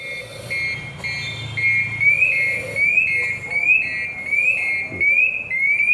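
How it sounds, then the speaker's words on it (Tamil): A loud warning whistle repeats a steady, rising electronic chirp in even pulses under a low background rumble, with no one talking. "உடனே வார்னிங் விசில்"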